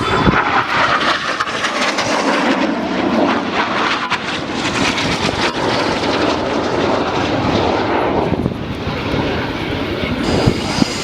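Red Arrows jets of the synchro pair roaring past at an airshow at Leuchars, a loud sustained broadband jet rush that swells and fades over about eleven seconds, with crowd and commentary faint beneath.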